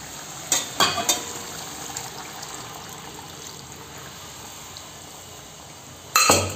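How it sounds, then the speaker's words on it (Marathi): Water pours steadily into a pot of chicken curry with a continuous hiss, framed by a few sharp clatters of utensils at the start and end. "आपण हे पूर्ण पाणी, तेवढं पाणी त्याच्यात टाकायचं"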